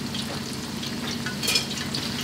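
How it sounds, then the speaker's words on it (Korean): Steady crackling sizzle of corn and shrimp tempura frying in hot oil, continuous and fairly close, with small bursts of popping midway. "30초가 지났으니까 한 번 더 튀길게요"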